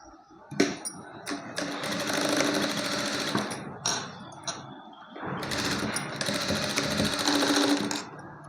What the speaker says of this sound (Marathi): इथून असं तिरकं शिवून घ्यायचं आहे